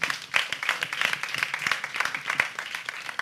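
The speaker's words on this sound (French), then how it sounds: "je voudrais vraiment qu'on applaudisse pour cela" An audience claps together during a televised debate programme. The applause is brisk and sustained, with sharp individual claps rising out of a dense, moderately loud patter.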